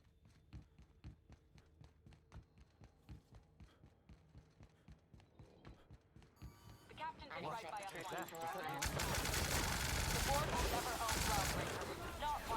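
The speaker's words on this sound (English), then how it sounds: "Did not mean to shoot up that Mardet." Shooting in the video game The Outer Worlds: a faint, steady stream of quick shots that swells into loud, dense, chaotic firing and noise, with voices mixed in.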